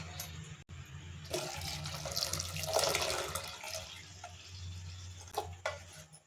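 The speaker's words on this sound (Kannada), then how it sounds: "ಈಗ ಎಷ್ಟು ಬೇಕೋ ಅಷ್ಟು ನೀರು ಹಾಕ್ಕೊಳ್ಳೋಣ" Water poured into freshly ground coconut to make coconut milk for a sweet-dal obbattu meal, a steady running, splashing pour that swells and fades in near bursts over a few seconds, with no talking.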